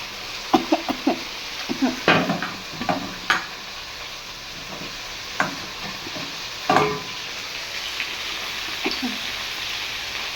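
Leafy greens frying and being stirred in a home kitchen pan, with scattered scraping stirs and a few sharp knocks over a low steady sizzle.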